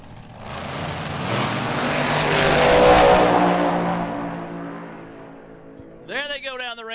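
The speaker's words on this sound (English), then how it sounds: "There they go down the racetrack" Fuel Altered drag cars launch together at Tucson Dragway in a grudge match, a loud roaring engine blast that swells, peaks and fades down the strip over several seconds, followed by a voice talking.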